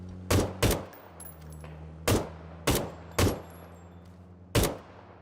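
Six loud, sharp gunshots from gunfire in the video game PUBG, fired singly and in pairs at irregular intervals over a faint steady hum.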